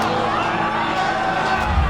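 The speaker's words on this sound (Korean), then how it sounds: "환경단체는 환호를 내질렀죠" An environmental group's crowd cheers in a dense, loud wash of whoops and shouts with mixed babbling voices, steady throughout.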